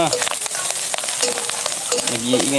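Grasshoppers frying in a pan over high heat give a loud, continuous sizzle with crackles and pops, joined near the end by a faint squeaky cry.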